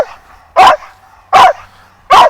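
A dog barks three times, loud and close, with sharp single barks spaced evenly and quiet pauses between.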